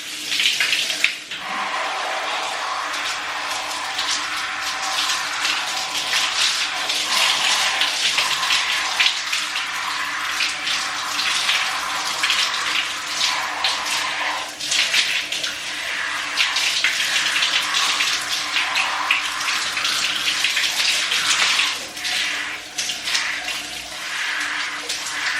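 Water runs steadily from a tap while hair is rinsed, a continuous close splashing flow that carries on without a break.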